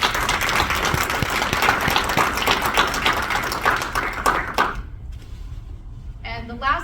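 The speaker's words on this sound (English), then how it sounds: "So a big round of applause for that." Dense, steady applause from an audience at a Western Massachusetts digital-equity community event fills most of the stretch, then cuts off abruptly near the end as a voice begins speaking.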